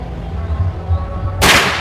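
A single sharp shot from a 1400 fps air rifle being tuned cracks near the end, loud and sudden after a low background hum.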